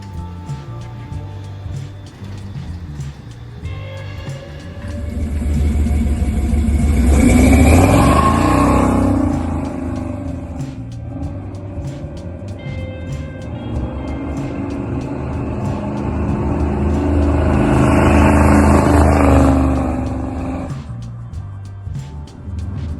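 A 1956 Chevy V8 on a road test rises in two long revving swells as it accelerates, with the engine note climbing and falling and a steady rumble between the pulls.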